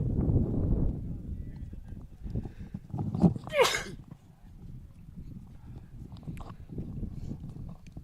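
A single quick sneeze bursts out over a background of low murmuring voices and ambient noise at a college tennis match, loud and close for a brief moment.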